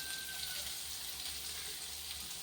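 Ginger, onion and curry leaves sautéing over a medium flame, a soft, even sizzle that stays faint and steady throughout with no talking.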